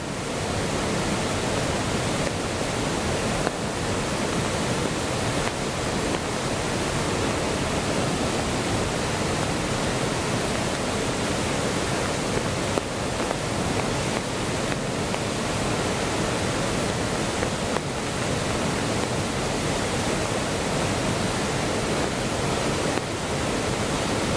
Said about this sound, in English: Today the waterfall is just trickling a little.